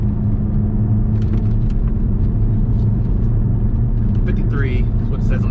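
A BMW X5M taken through a tight corner at about 50 mph: a steady low engine and road rumble inside the cabin, with faint tire whine rising near the end while the driver talks over it.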